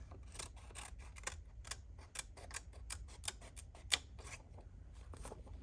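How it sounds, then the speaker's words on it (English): Scissors snip around a craft slide made for a faux shattered glass project, producing a rapid series of close, crisp clicks and cuts. "we're gonna use our scissors"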